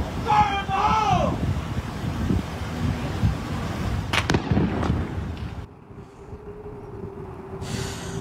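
Police detonate a pipe bomb in a restaurant parking lot in South Salt Lake, a sharp blast partway through that drops into a lower, quieter background, with wind noise and some outdoor clatter around it.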